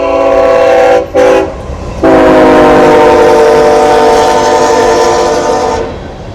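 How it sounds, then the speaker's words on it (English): CSX L391, a short local freight heading north at Crofton, Kentucky on the Henderson Subdivision, sounds a loud, close horn in two short blasts and then one long sustained blast. Wheels rumble steadily underneath as the train passes, fading at the end. "And we got the CSX L391, the local,"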